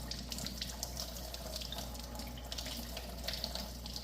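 Fresh unwashed eggs rinsed one by one under a running kitchen tap, giving a steady close splashing stream of water into a sink with faint drips.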